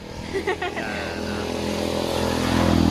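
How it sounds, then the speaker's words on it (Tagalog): Traffic goes by on a roadside stop-over, a motorcycle-like engine swelling steadily louder toward the end, with a brief burst of voices early on. "medyo maingay lang kasi nasa tabing kalsada lang kami nag-stop over"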